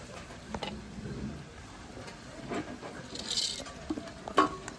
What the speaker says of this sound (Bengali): সব রকম দিয়ে আমি এখন মাখাই নেবো মাছটা।